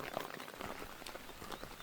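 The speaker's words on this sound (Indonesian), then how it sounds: "Hujan akhirnya turun." Rain falling steadily at a campsite, a dense, even patter of drops hitting surfaces close by, continuous and moderately loud with no voices over it.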